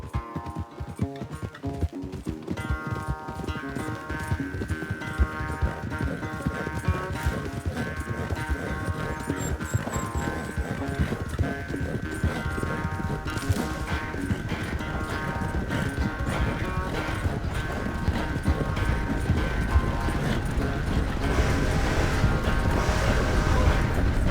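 Horses galloping in a race in the video game Red Dead Redemption 2, with rhythmic, driving hoofbeats and tack noise building steadily over about twenty-four seconds under a bed of background music.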